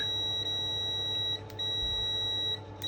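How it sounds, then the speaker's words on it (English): A multimeter's continuity check beep, a steady high-pitched electronic tone, sounds continuously and loudly, briefly dipping once or twice, close up, with no voices. "it is just on a normal continuity check, which means it will beep"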